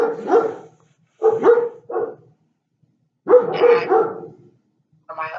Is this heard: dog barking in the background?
yes